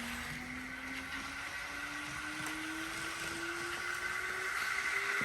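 A Kato GE ES44AC Union Pacific model locomotive pulls slowly forward, giving a steady motor whine that rises gradually in pitch as it gains speed over a constant hiss, close and continuous, with no voices.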